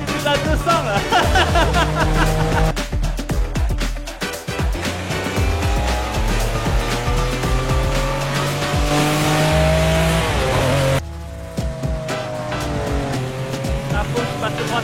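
A Ferrari Testarossa engine roars at high revs through hard track acceleration, sustained and loud from inside the car, with rising gear pulls and a brief shift near eleven seconds.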